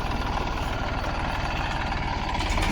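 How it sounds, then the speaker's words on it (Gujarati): A tractor engine idles steadily close by, a low, even rumble with faint vibration and no break across the short stretch, after being used for sowing summer sesame on a farm. "ટ્રેક્ટર કાઢી લીધું છે આપણે બારે"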